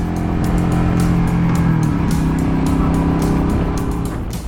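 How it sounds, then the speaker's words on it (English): A Royal Enfield Meteor motorcycle engine runs at a steady, smooth exhaust note, loud and continuous while riding, with a slight pitch shift midway and no talking. "the engine is very smooth with a really nice exhaust note that just putts along."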